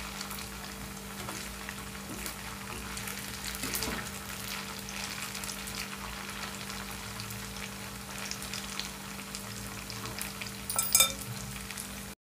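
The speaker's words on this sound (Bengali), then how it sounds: "এই দেখুন, আমার সব পকোড়া ভাজা হয়ে গেল।" Cauliflower pakoras deep-fry in hot oil with a constant, even bubbling sizzle up close, steady through the whole stretch, with a brief clatter near the end.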